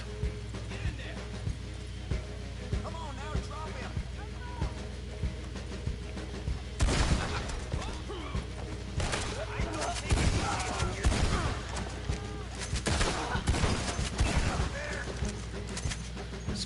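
Shotgun blasts in the Red Dead video game: repeated heavy shots, some in quick bunches, over a steady low game rumble, with a voice talking at times.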